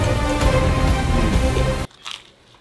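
A single loud, close crunchy bite into a chicken sandwich on crisp artisan bread with pickle, followed by a brief pause and a little soft chewing.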